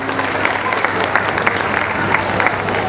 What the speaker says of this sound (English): How about we give him a round of applause?